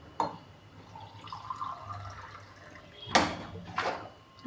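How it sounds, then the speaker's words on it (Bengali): Water poured from a vessel into a cooking pot of mixed vegetables and lentils, a short splashing gush after quieter kitchen handling sounds, close by with no talk. "এই যে একটু জল দিয়ে দেব।"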